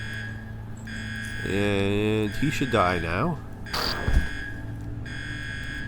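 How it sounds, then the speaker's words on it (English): An alarm sounds in the UnderRail video game as a steady, high electronic tone held under someone speaking, dropping out briefly near the start and end. "Got the alarm going off again"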